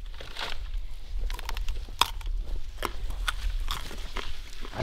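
Crisp, crunchy bites into a raw kabocha-type sweet potato dug fresh from a field, several sharp snaps followed by close chewing, with no talk over it.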